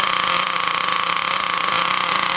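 Ansmann Virus 2.0 BigBlock RC nitro engine running in on the bench, a loud, high, continuous buzzing whine held steady with no talk.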